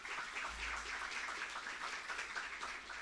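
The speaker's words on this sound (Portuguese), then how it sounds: "uma salva de palmas para vocês." An audience at a Portuguese engineering event, Engenharia Ação 2025, gives a team a round of applause, heard as a faint, even patter of many hands clapping from a distance over a low hum.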